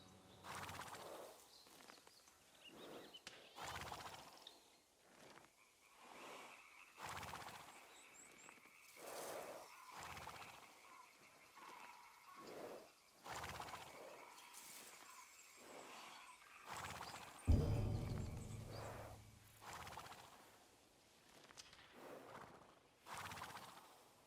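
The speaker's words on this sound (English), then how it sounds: "I've never seen my character sleep with the horse, so I'm just going to listen to how they sound" Horses heard at night in the video game Ghost of Yotei: soft repeated snorts and shuffling hoof-like thuds over a quiet ambient bed, with one sharper louder knock partway through.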